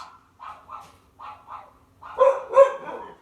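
A dog outside barks in a short series of clipped woofs, several moderate ones followed by two louder, closer-sounding barks, with no talking over them.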